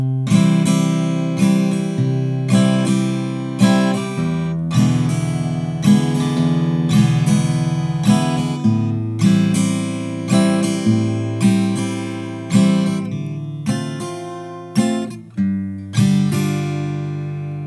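Acoustic guitar strums the chorus of a song, alternating thumbed bass notes with full strums in a steady repeating rhythm, close and clear with no voice.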